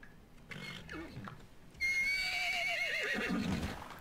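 A pony in the video game Ark de Noé gives a loud, rising whinny lasting a couple of seconds, with scattered game sounds just before it.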